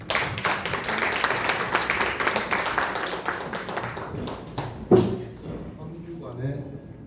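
An audience at an arts performance applauds, a scattered run of hand claps mixed with a speaking voice, tapering off near the end as talk continues.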